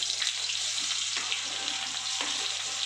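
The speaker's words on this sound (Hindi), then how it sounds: "अब इसमें हम अपना कटा हुआ प्याज डालेंगे" Chopped onion frying in a kadai with browned garlic, a steady close hiss and sizzle with a couple of sharp scraping stirs, no talking.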